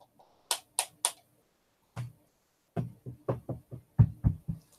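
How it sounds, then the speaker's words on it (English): Sharp knocks sound near a REM pod ghost-hunting sensor indoors: a quick set of three, a single knock, then a faster irregular run of about eight, close and crisp against silence. "it's like knocking."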